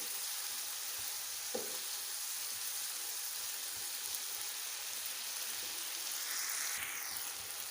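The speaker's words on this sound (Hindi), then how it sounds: "3 मिनट तक टमाटरों को भून लेते हैं ताकि हमारा मसाला अच्छी तरह तैयार हो जाए।" Tomatoes sauté in an onion-based masala for aloo bhindi, giving a soft, even hiss of frying throughout with a faint clink or two and no voices.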